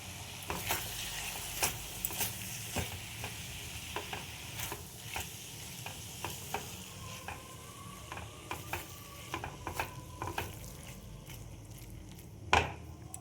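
Three grated eggs stirred in a hot frying pan for garlic egg, a steady soft sizzle with repeated scraping taps of the spatula throughout, close and moderately loud.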